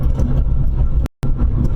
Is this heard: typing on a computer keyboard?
no